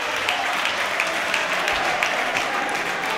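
Futsal fans applauding in an indoor arena during a Real Futsal Arzignano versus SS Lazio match, a steady wash of crowd clapping with scattered louder claps, no clear talk over it.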